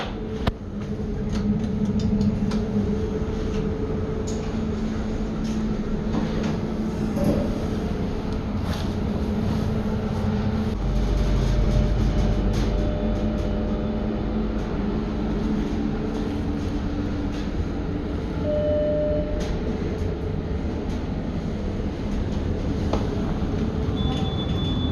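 A Lisbon metro train rumbles steadily through a station, with rail noise, faint wheel squeals and clatter running throughout and no talking.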